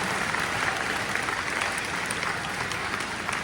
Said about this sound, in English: let's give a round of applause to all of our staff as well